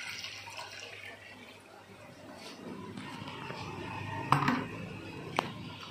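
Water being poured into a brackish aquarium tank during setup, a soft running splash that builds gradually with a couple of sharper clinks near the end, fairly quiet and close.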